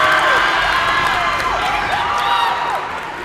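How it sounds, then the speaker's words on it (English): A basketball crowd at a high school game cheers and rises to its feet late in the third quarter, a broad continuous roar with scattered whoops and shouts, loud and sustained before easing slightly at the end. "Listen to the crowd coming to their feet here in the waning seconds of the third quarter"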